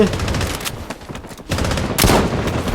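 Rapid bursts of close gunfire from the shooter game Blood Strike, including an SVD sniper rifle, come in loud volleys with brief pauses and a strong burst near the end, while a player talks quietly underneath.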